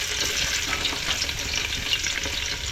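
Garlic sizzles steadily in hot oil for a chicken curry, a dense, continuous crackling hiss held close and even throughout, with faint stirring underneath.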